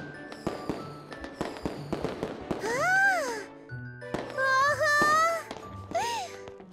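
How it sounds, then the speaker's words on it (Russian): Cartoon fireworks bursting and crackling in quick succession, with whistling rockets rising and popping, loud and close, along with light jingling tones. "Ого, это фейерверк."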